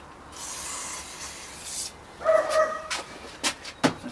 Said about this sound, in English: It's not your neighbour's dog, it's my neighbour's dog.